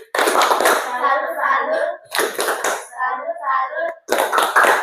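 A class of schoolchildren performs a rhythmic 'tepuk salut' clap for a presenting group, sharp bursts of hand claps in patterned groups, broken by short pauses and mixed with children's chanting voices.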